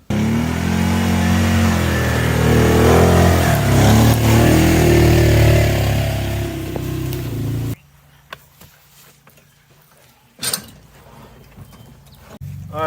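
Engine of a vehicle towing chopped log halves up to a field, a loud steady running drone for several seconds that cuts off abruptly, followed by quiet with a brief burst of noise.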